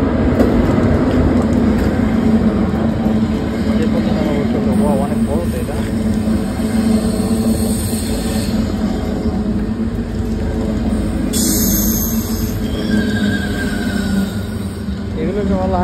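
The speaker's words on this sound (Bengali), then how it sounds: "ওয়াও, অনেক বড় ট্রেন, এগুলোকে ICE ট্রেন বলা হয়" Large German ICE train at a station platform, a loud low rumble and hum of the train moving close by, continuous for the whole stretch, with a brief high tone partway through.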